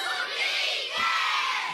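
A studio audience at a talent show final cheers and shouts together, a dense roar of many voices held for under two seconds.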